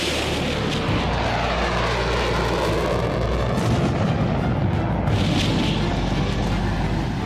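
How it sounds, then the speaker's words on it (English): Military jet aircraft flying steep-angle dive bombing runs on a small target: a loud, sustained engine roar that swells and shifts in pitch as the jets pass, with no voices. "They practice steep-angle dive bombing runs on a tiny target."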